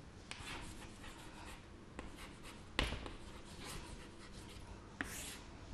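A pen writing on paper in a letter-writing lesson: soft, continuous scratching and rubbing strokes with a few small taps, close but quiet, with no voices.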